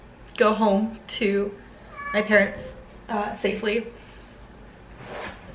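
A house cat meows in a few short, bright calls spaced across a few seconds, close to the microphone, with a person speaking around and between them.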